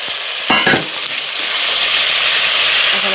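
Mutton curry with chili powder paste stirred and frying in a village kitchen pan, a steady close hiss of sizzling with a couple of scraping stir strokes early on, no voices.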